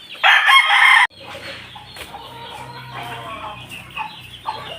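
A backyard rooster crows loudly for about a second, then hens cluck softly and intermittently in the yard, with a faint voice in the background.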